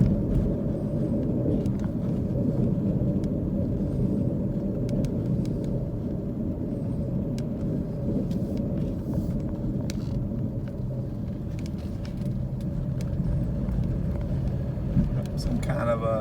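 A car drives along roads around Madisonville in Monroe County, Tennessee, with a steady low rumble from the tires and engine that continues for the whole stretch.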